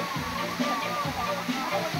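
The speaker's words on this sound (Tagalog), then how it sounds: "Itong falls na to." Water rushes steadily from a village waterfall where people are bathing, a constant close wash of sound with talk running over it.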